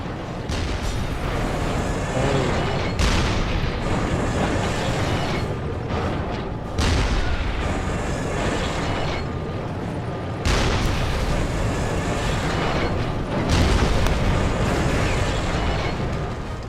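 A tank turret cannon in a video game booms repeatedly, with heavy blasts every few seconds over a constant loud roar of engine and battle noise, with no talking.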